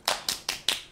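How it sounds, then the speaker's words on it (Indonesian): Four sharp, separate hand claps in an even rhythm, close and moderately loud, with a short silence after each one. "Tepuk tangan."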